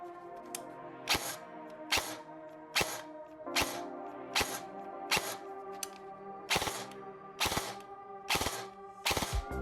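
Specna Arms SA-X02 EDGE airsoft PCC firing several 3-round bursts, each a rapid, sharp triple snap of clicking shots, loud and close, separated by short pauses with a faint mechanical hum between.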